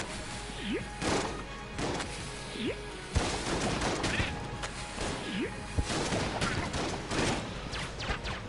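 Bombs blasting inside a room in the video game Enter the Gungeon, a run of sharp crashing impacts and thuds spread across the stretch amid other game effects, with some talk over it.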